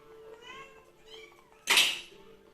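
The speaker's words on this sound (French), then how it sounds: "j'arrête la vidéo parce que le bordel que les chats font" Several cats make a sudden loud racket near the end, a burst of meowing and screeching after quieter indoor sounds and faint tones.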